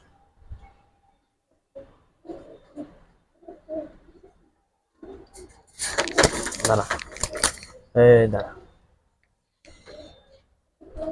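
Racer pigeons cooing close by in a loft, several soft throaty coos and a burst of louder calls, mixed with some rustling and someone talking between them.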